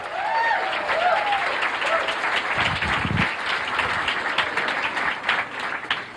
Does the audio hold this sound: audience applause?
yes